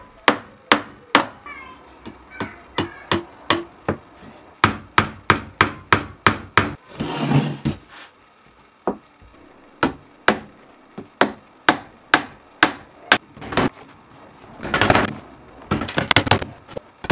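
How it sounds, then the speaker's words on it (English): Nails are hammered into pallet wood by hand while a crate's lower tier is assembled: sharp, close wooden blows come in quick runs of strikes with short pauses, and a couple of brief scraping bursts sit between them. "I used a good old hammer and nails instead"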